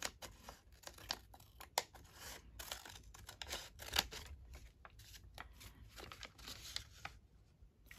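Scissors trim junk journal paper in a quiet, close, busy run of irregular snips and rustles, with no talking.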